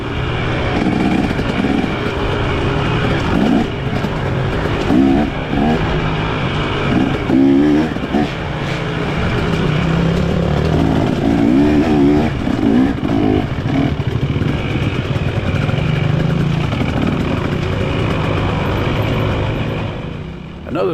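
Two-stroke motorcycle engine riding on a dirt track: a continuous, moderately loud, buzzy engine note with rattling clatter and small surges of revving across the whole stretch.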